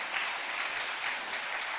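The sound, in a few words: audience applause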